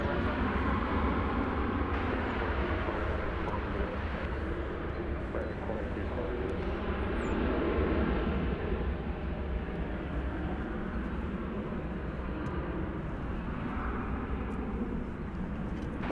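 A jet airliner on its takeoff run at Dallas Fort Worth Airport, bound for Las Vegas, gives a steady, broad rumbling roar that holds loud and even throughout, with no clear rise or fade.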